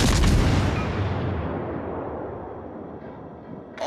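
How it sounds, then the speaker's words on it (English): A heavy boom of naval artillery fire on an enemy warship in the video game World of Warships: Legends, one loud blast that rolls off into a long fading rumble, with no talk. "Concentrate fire on the enemy warship."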